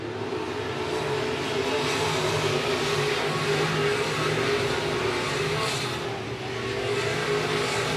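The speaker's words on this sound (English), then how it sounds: "Max Quint continues the lead out front in the Mopar Power 72 ride." Modified race cars running a main event at I-76 Speedway, a continuous layered engine drone from several cars at a distance, rising and falling slightly as the pack circulates, with faint crowd and track ambience.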